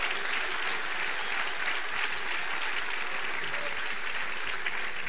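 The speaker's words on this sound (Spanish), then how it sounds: "Si le va a aplaudir, apláudele fuerte al Señor." A church congregation claps loudly and steadily, a dense, sustained wall of applause with no breaks, filling the room throughout.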